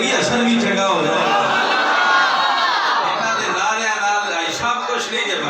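A large, loud crowd shouts and chants slogans in unison at a religious gathering, with voices rising and falling continuously and several sharp cries standing out.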